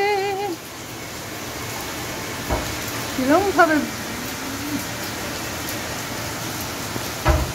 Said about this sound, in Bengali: বৃষ্টিটা পড়ছে, দেখাও নাও যাচ্ছে না।